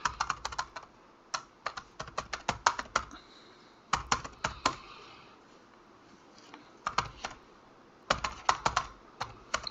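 Fingers type a long password on a computer keyboard, quick bursts of close, crisp key clicks separated by short pauses.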